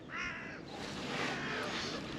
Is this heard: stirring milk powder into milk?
no